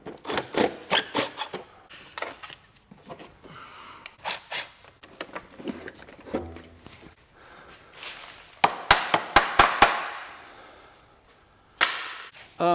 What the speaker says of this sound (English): I'm taking the battery out.